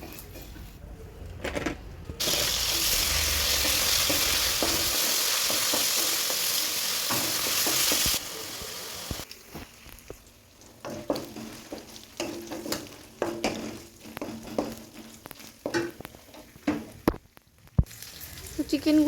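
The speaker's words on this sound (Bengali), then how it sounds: "কড়াইতে সামান্য রিফাইন তেল গরম করে তার মধ্যেই চিকেনগুলোকে ভেজে নেব" Chicken sizzling as it fries in a little hot refined oil in a wok, a loud steady hiss for several seconds, then stirring and scraping clatter in irregular bursts with no talking.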